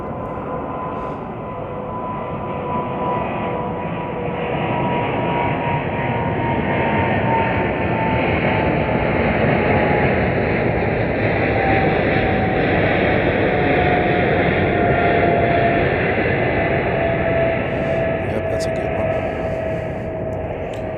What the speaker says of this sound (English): And we've got Air France rolling. Air France. Yep, 777.